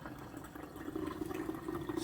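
Raspberry cardamom cider pours through quadruple-wrapped cheesecloth and a metal sieve, making a steady, close liquid trickle and splash that grows slightly fuller partway through.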